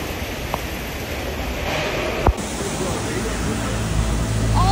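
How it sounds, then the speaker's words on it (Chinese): A violent thunderstorm with gale-force wind and rain sweeps through Jinan, producing a loud, steady roar of wind and rain across the whole stretch, with one sharp thump partway through. "狂风暴雨啊！"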